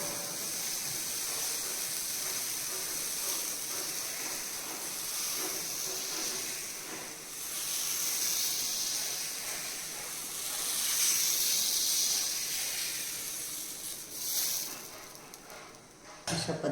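A ladle of batter spread on a greased hot tawa gives a steady, close, bright hiss of sizzling that runs unbroken, swelling slightly midway and fading near the end.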